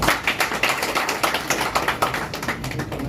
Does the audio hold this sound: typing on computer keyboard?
no